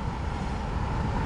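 Low, blustery wind buffets the microphone in a steady roar, with no other sounds standing out.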